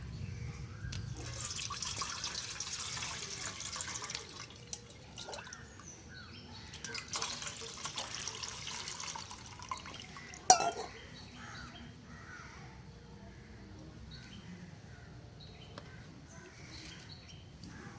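Homemade pesticide liquid is poured and strained through a filter, giving a soft continuous trickle and dripping, faint and close, with birds chirping outdoors in the background.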